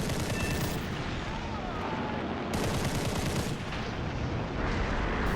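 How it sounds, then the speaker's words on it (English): Dense, sustained bomber turret gunfire in War Thunder, a loud continuous roar of rapid shots spreading across the whole clip with a brief dip midway and no talking. "Turret spewing in all directions, gunning for my allies."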